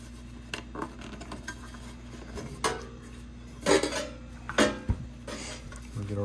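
Tin snips make a few short metallic crunches and clanks as relief cuts go into an aluminum gutter, spaced irregularly over a low steady hum.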